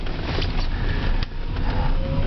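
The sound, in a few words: electric car motor idling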